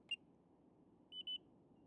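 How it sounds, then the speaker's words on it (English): Short electronic-sounding beeps from a Fimi Mini 3 drone controller as a photo is taken: one quick beep, then a pause and a pair of beeps close together, fairly faint over a low background hum. "You don't get you get kind of a funny mechanical beep"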